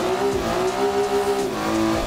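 Race car engine in Assetto Corsa holding a steady droning pitch with a slight dip near the end, loud and continuous with tire noise underneath and no talking.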